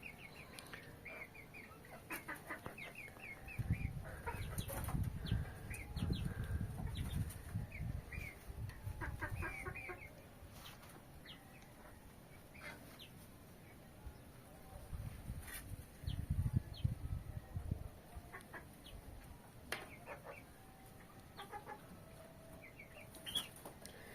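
Kuwaiti free-range chickens cluck and murmur in a flock, with repeated soft calls, occasional louder bursts and some wing flapping nearby, over faint background noise.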